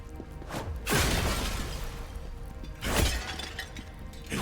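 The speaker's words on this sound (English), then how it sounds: "I can break the glass stuff." Glass objects shatter inside the video game The First Berserker: Khazan, two loud breaking crashes about two seconds apart, each a sharp burst with tinkling debris trailing off over low game ambience.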